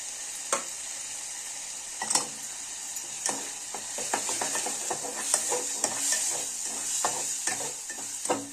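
Spice masala roasts in a pan with a soft steady sizzle, punctuated by close scraping clicks of a spoon or spatula stirring at irregular intervals, no talking.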